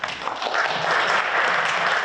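An audience at a tech conference panel on AI and healthcare gives brief, lukewarm applause: a short patter of scattered clapping lasting about two seconds.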